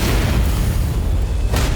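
Fireworks burst on a road during a wedding procession, a loud, close, deep booming rumble that rolls on without pause and ends in a brighter crack.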